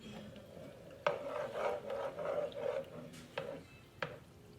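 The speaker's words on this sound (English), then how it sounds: "A half a cup of milk. And now I stir it up." Macaroni being stirred after half a cup of milk is added, a soft rubbing, scraping rasp of a utensil in the pot with several sharper knocks against the pan, fairly close and quiet.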